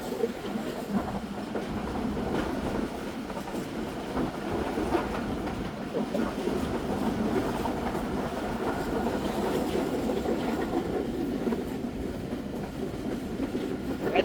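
The Rehman Express runs on the rails at steady speed, a continuous loud rumble with rhythmic clickety-clack from the wheels and occasional squeal, heard from on board.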